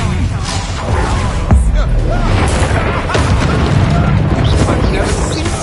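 Bombarda spell explosion in the Hogwarts Legacy video game, a loud booming blast within dense, continuous game sound with rumbling layers throughout.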